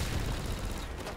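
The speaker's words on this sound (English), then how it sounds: "Out of gunfire and back into gunfire." Dense, loud rattling gunfire from Call of Duty 4 Modern Warfare Remastered fills a brief moment, close and continuous with no talking over it.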